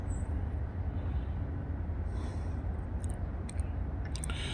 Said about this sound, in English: There are Pan Am engines in this train.